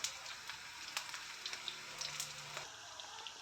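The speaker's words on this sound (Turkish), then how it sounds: "Kaşık yardımıyla çevire çevire kızartacağız köftelerimizi ilk başlarda." Meatballs fry in a pan and are turned with a spoon, giving a steady soft sizzle with light scattered pops and faint scraping taps. No voices are heard.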